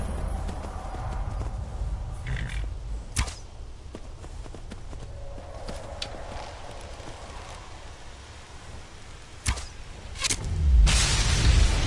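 Horse hooves clip-clopping at a walking pace in Skyrim on PS5, faint and intermittent, with occasional sharper knocks and a louder rumble building near the end.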